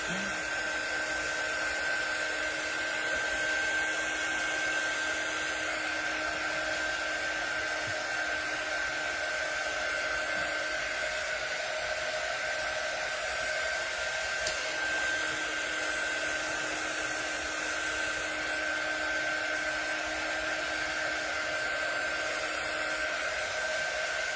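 Hair dryer blowing on sweet standing Easter bunny treats, a constant close whooshing whir with a steady high whine, running unbroken and alone throughout.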